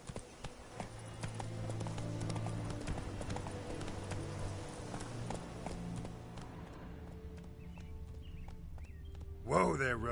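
Video-game horse Roach trotting with steady clip-clop hooves that fade after several seconds, followed by a sudden burst of sound, with speech present throughout.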